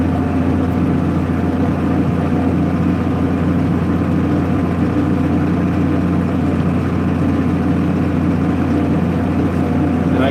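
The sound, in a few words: White 6125 tractor engine running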